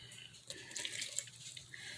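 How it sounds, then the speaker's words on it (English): Boiling hot water pours steadily from a cup into chocolate cake batter in a home kitchen, a close, continuous splashing trickle that swells midway and carries on to the end. "add the rest of that cup of hot water to it. Boiling hot water, not just warm water"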